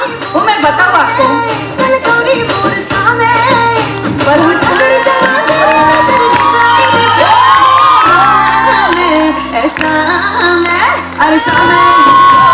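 A crowd cheering, whooping and shouting at a school annual day show, loud and continuous over blaring music with a thumping beat, with children's shouts and an amplified voice mixed in.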